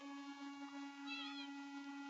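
An ocelot gives a brief, faint meow-like call midway, heard over a steady hum with no speech.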